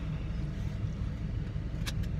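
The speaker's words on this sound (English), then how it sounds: "we are in the Jeep now, on our way to get the new truck" Inside a moving Jeep, a quiet, steady low road and engine rumble continues throughout, with a brief high click near the end.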